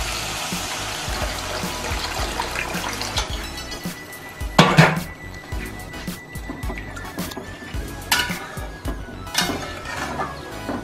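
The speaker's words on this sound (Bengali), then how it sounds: "এবার আমি জল ঢেলে দিচ্ছি।" Water is poured into a pot of fried spices for a rohu fish curry, a splashing trickle with pot clatter, loudest in a brief burst midway and then again toward the end.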